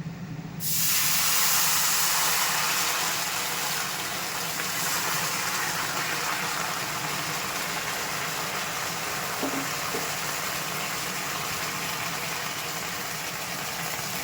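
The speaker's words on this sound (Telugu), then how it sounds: "కొంచెం వాటర్ పోసేసుకుందాము." Water poured into a hot pan of tempering with curry leaves and chillies sets off a loud, steady sizzling hiss that starts abruptly and runs on unbroken.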